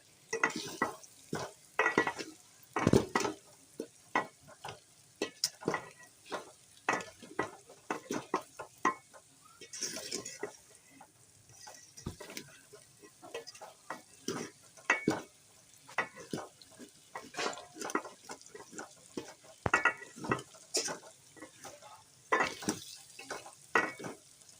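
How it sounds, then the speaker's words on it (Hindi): Dry ground spices roasting in a pan for an arvi chicken curry, stirred with a spoon: repeated scraping knocks and clinks over a soft sizzle, close and fairly quiet, with no talking. "खुश्क मसाले ऐड कर देंगे। दो 3 मिनट तक अच्छी तरह से इनकी भुनाई करेंगे।"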